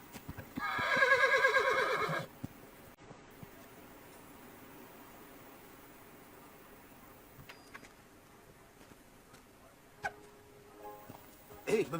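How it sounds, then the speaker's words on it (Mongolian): A horse gives a loud, shrill neigh lasting about a second, followed by quieter scattered hoof clops and light knocks in a calm outdoor setting in a 2008 Kazakh film. "За би морин аргамтчихад ирье."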